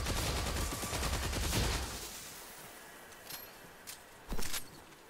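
Rapid bursts of submachine gun fire in a video game, a dense continuous volley for about two seconds, then a few isolated sharp cracks and clicks afterward.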